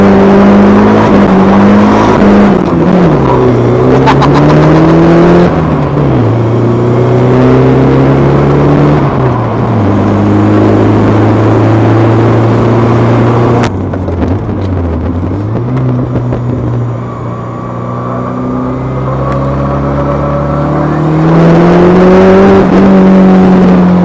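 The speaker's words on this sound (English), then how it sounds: "The best thing about rear wheel drive, you could do a burnout." A 1987-88 Ford Thunderbird Turbo Coupe, rear-wheel drive and turbocharged, roars through a burnout, its engine held high and swelling up and down in pitch in long revving surges, loud and close with no talking.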